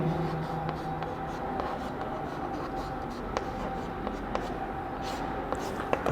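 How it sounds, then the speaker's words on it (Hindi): A pen scratches softly across paper as a definition is written by hand for a Sanskrit lesson, faint and continuous over a steady room hum, with a few light taps. "सबसे पहले इसकी परिभाषा लिखेंगे।"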